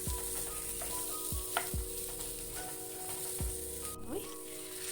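Hot water poured into a pan of spiced food on the stove, a steady loud sizzle and bubbling with a few sharp hisses and clanks of utensils stirring, close up, with no talking.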